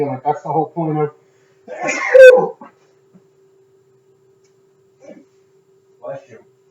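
A person sneezes once, loud and close, in a burst in the middle of conversational talk, with a few faint murmurs afterward.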